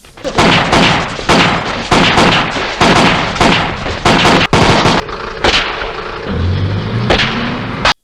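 Rapid bursts of loud gunfire echo in a dramatic scene from the 1969 film Invasion as a man entering a house is shot, repeated shots in quick succession, then a low rumbling tone as the firing thins out.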